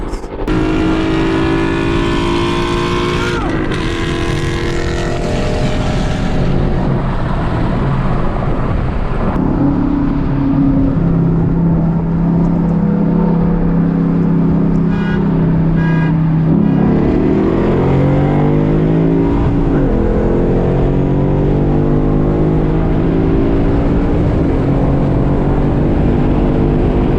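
A Dodge SRT8 racing a three-valve Ford Mustang, with engines roaring loudly and steadily as revs climb, drop and climb again through gear changes, the din filling the whole stretch without speech.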